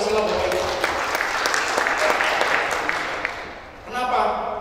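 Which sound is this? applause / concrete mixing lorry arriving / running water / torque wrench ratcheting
applause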